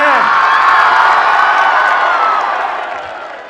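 A large crowd at a political rally in Haripur for Imran Khan roars with cheering, whooping and applause. The sound is loud and sustained as a dense wash of voices and clapping, slowly fading toward the end.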